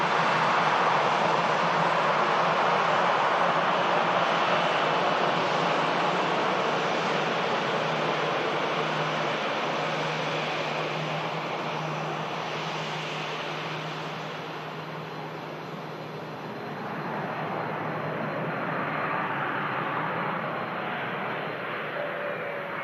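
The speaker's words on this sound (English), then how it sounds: "KLM A321 Neo next to land." A KLM Airbus A321neo landing at Manchester Airport: a broad, loud jet roar that holds steady, dips briefly, then swells again as the airliner passes, with no talking.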